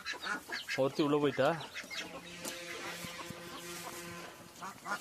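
Ducks quack and cackle in a short burst near by, then keep calling under a person's talking.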